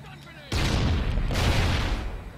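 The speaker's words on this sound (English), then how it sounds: "I actually hit a grenade" A grenade blast in a multiplayer shooter game, a sudden loud boom that rolls on with rumbling debris for nearly two seconds, with faint talk before it.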